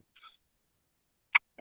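A single short sneeze-like burst in a quiet courtroom, preceded by a faint breathy sound and followed by a small trailing noise, nothing else around it.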